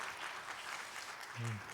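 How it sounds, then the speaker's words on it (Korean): A congregation at a church faith-course graduation ceremony applauds, giving a short, steady patter of clapping with a brief voice-like sound near the end. "네, 박수로 격려하겠습니다."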